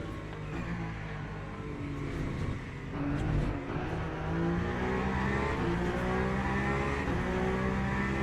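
A race car engine in the Le Mans Ultimate racing game, at the Mulsanne hairpin at Le Mans, drones loudly and steadily throughout, its pitch climbing as it revs up through the gears.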